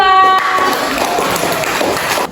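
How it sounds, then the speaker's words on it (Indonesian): A seated group in a teachers' academic supervision coaching session applauds a presenting team with a loud, continuous burst of clapping that carries on for a couple of seconds and then cuts off abruptly. "Tepuk tangan untuk kelompok 2"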